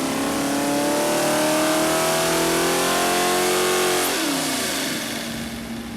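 A rebuilt junkyard Mopar 360 V8 on an engine dyno holds a loud, sustained rev that climbs steadily in pitch, then drops off as the throttle closes near the end.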